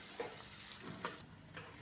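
Onions sizzle and fry in a pot for a degi-style chicken and potato curry, with a steady hiss and occasional scrapes and clinks from stirring. The pan sounds close, and no one speaks.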